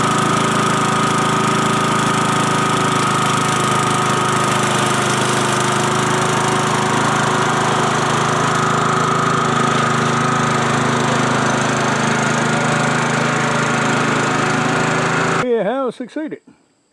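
A tractor engine drones loudly and steadily, pulling a 15 kg Anyang power hammer on a small dolly onto a porch, then cutting off abruptly near the end.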